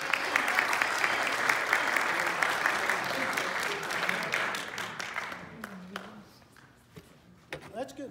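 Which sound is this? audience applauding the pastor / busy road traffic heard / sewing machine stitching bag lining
audience applauding the pastor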